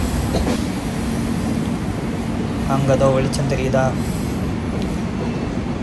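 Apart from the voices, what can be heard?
train Okha–Ernakulam 16337 running through a tunnel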